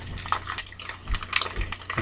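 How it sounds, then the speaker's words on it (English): Milk poured into a bowl for scrambled eggs while making breakfast in a home kitchen: a short, close, splashy liquid pour lasting about two seconds, with faint clinks and no talking. "We're gonna pour a little bit of milk."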